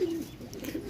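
A pigeon gives a short, low coo at close range, heard alone among other pigeons being shown for sale.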